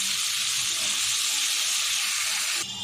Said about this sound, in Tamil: மசாலாவோட மஷ்ரூம் நல்லா மிக்ஸ் பண்ணி வதக்கி விட்டுருவேன்